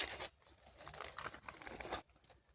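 A packet from a Ukrainian army ration is torn open by hand: brief crinkling and ripping of plastic wrapping in a few quick bursts, close and fairly quiet, then stopping.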